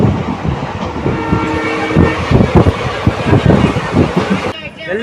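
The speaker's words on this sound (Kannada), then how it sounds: "ರೈಲಿನಲ್ಲಿ ಸಿದ್ಧಗಂಗಾ ಮಠಕ್ಕೆ ನಮ್ಮೆಲ್ಲರ ಪ್ರಯಾಣ." A passenger train rolls along the railway toward Tumakuru in Karnataka, its steady loud rumble and rhythmic wheel clatter filling the whole span with a horn-like tone, heard close from on board.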